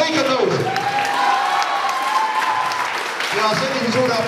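Applause from a crowd at a high school mock wedding celebration in Lihula, a brief burst of clapping and cheering mixed with voices that fades slightly toward the end.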